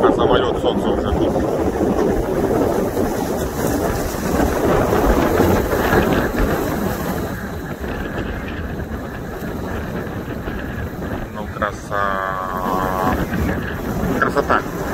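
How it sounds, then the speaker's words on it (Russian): An airplane passes overhead at sunrise in the Maldives, heard as a broad, rushing rumble mixed with wind buffeting the microphone, while a person talks throughout. "И вот самолет над нами пролетает заодно."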